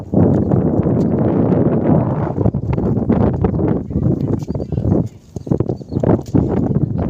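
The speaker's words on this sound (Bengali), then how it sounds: "দেখেন আমার ছাতা উড়ে যাচ্ছে, এত হাওয়া দিচ্ছে" Strong wind buffets the microphone beside a river with passing boats, in a loud, continuous rumbling roar that briefly eases before gusting again.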